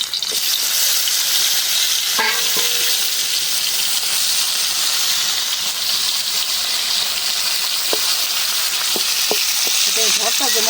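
Marinated pabda river fish frying in a pan of hot oil, a loud, continuous close sizzle with occasional spatters and faint clinks, and a voice briefly audible beneath it.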